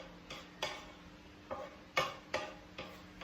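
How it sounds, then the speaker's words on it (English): Garlic stirred in a frying pan while cooking simple noodles: a handful of quiet scraping and tapping strokes at irregular intervals over a faint, steady background hiss, with no talking. "now stir the garlic until you get this good smell"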